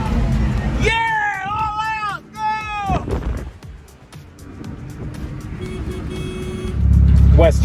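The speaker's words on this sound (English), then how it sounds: "I bet you I can make more noise with this truck." A Japanese kei truck accelerates flat out on a Texas highway. Loud, steady engine and road roar builds toward a heavier low rumble at the end, opening with excited shouting voices.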